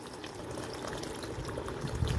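Mustard seeds washed in water in a bowl, a continuous close watery swish and slosh with a faint gurgle.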